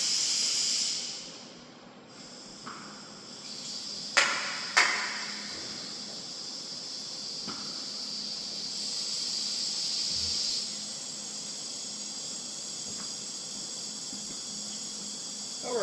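Compressed air hisses on a stamping press under repair, a steady high hiss that swells midway and holds, with a couple of sharp clicks early on.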